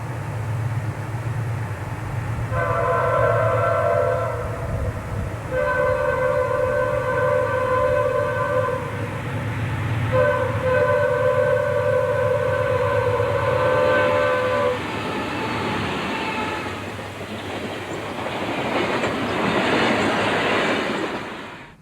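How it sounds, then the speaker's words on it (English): A northbound freight train pulled by a pair of General Electric C40-8 locomotives passes at speed, the horn sounding in several long blasts over a steady low rumble that fades toward the end. "he caught a pair of General Electric C40-8s pulling a northbound time freight at speed"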